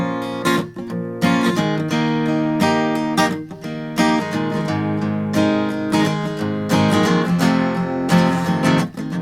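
Acoustic guitar strumming an easy arrangement of a song, with steady chords ringing out in a relaxed rhythm, played solo and close with no talking.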